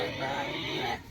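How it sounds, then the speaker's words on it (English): A mouthy, hand-raised full-blooded Duroc sow, two to three years old, vocalizes in a steady run of grunting noise for about a second before it drops off. "You just end up with a pig that's just mouthy."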